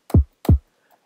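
A kick drum sample played at note C3 in Ableton Live for a trap beat hits twice in quick succession, each a loud, deep thump with a fast downward pitch sweep, alone and dry.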